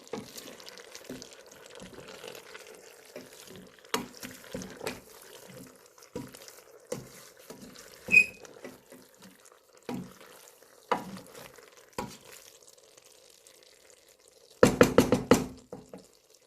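A spoon stirs green beans frying in a pan, with intermittent scraping knocks over a faint sizzle and a sharp clattering burst near the end.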